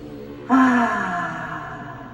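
A single slow breath drawn in and let out during a yoga stretching session, one soft airy exhale rising sharply then fading over about a second and a half, close and alone with no talk.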